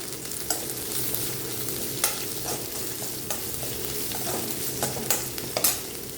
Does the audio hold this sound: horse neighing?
no